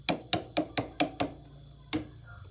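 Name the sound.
hammering to loosen rear lever on Honda Astrea 800 engine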